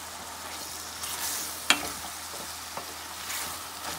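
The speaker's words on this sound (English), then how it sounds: "this won't take long to fry up because shrimp cooks quickly" Shrimp fry in a pan with a low, even sizzle and occasional stirring, including one sharp clink of a utensil against the pan, heard close and without any voice.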